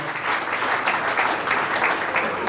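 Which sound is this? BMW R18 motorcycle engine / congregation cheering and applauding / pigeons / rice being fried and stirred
congregation cheering and applauding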